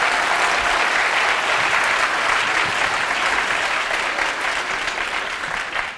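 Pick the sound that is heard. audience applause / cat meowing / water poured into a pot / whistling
audience applause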